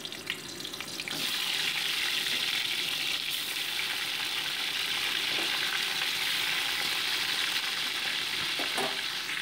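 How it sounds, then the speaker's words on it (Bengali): Rohu fish heads fry in hot mustard oil in a kadai, making a loud, continuous close sizzle with occasional faint clinks as the pieces are turned. "মাথাগুলো উল্টে পাল্টে আমি ভেজে নিচ্ছি"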